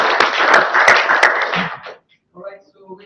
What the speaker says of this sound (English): And that certainly deserves a round of applause.